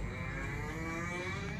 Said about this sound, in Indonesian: Sapinya sangat super-super